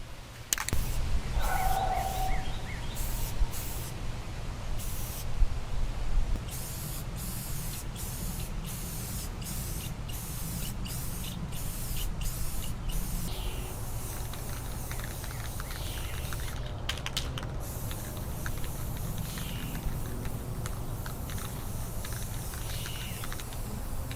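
Aerosol paint sprayed in sustained hissing bursts onto a vintage Hazet 166N Assistent tool cart during restoration, outdoors in sunshine, with short spurts early and longer continuous passes after.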